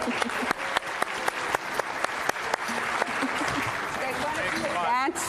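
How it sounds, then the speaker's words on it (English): Audience applause at the 2022 Tribal Self-Governance Conference, with sharp rhythmic claps over crowd noise, sustained throughout and ending with a brief sliding sound. "Give them a round of applause, you guys."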